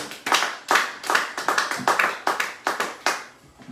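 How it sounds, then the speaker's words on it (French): Church congregation clapping together in a brief burst of applause, about a dozen sharp, fairly loud claps in an uneven rhythm, with no voices over it. "Est-ce qu'on peut acclamer pour cette parole?"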